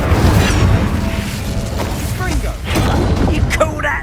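An Incendio fire spell cast in Hogwarts Legacy, a close, loud burst with crackling and whooshing bursts over a steady rumble of combat noise.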